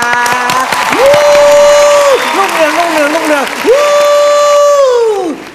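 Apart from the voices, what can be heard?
studio audience applause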